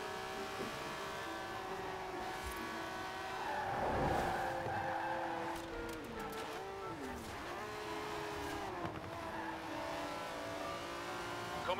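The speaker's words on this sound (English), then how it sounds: "That's a 90-year-old racing car. It's gonna take some handling." A ninety-year-old vintage racing car driven in the video game Forza Horizon 4, its engine droning steadily with shifting pitch and brief tire squeals through the bends, close and continuous without any talk.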